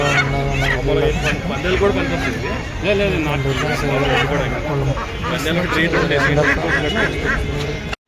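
Chickens cackle and squawk in a busy crowd at Erragadda market, with people talking over the birds and lively market babble throughout.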